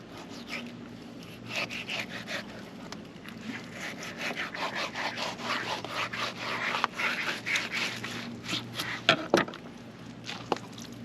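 A knife slices the skin off a striped bass fillet, making a continuous close, soft rasping and rubbing sound with a few sharper scrapes near the end.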